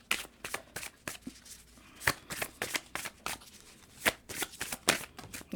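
Oracle cards being shuffled for a clarification card, a quick run of crisp riffling bursts and sharp snaps, close and fairly loud, with brief pauses between flurries and no talking.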